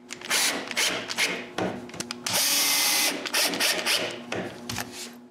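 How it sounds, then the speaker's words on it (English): Power screwdriver driving screws into the back panel of a solid pine pantry, several short bursts of whirring with pauses and one longer sustained run in the middle, close and loud. "Without moving anything, I screw the top of the back in place."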